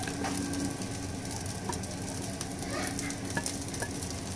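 A sautéed mix is stir-fried together with Singaporean fried noodles in a hot pan. A constant loud sizzle runs throughout, broken by scraping stirs and light clinks of the utensil.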